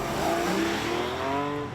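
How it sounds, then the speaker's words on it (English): A 2020 Porsche 718 Boxster GTS 4.0 with its engine mounted behind the driver pulls hard under acceleration, a loud continuous engine note with rising harmonic tones and a hint of tire noise, with no talking. "the engine sounds like a million moving pieces in perfect harmony, and it's behind me."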